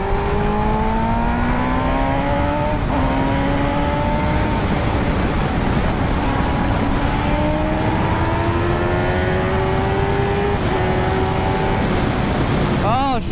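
A motorcycle engine screams near its 16,000 RPM rev limit, loud and close, its pitch climbing in repeated sweeps as the throttle is worked, with brief dips between pulls.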